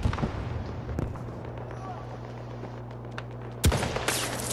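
Gunfire from a sniping match in the military shooter Squad, set on the Valparaiso map, with a sharp close shot near the start, another loud crack later and distant shots over a constant low rumble.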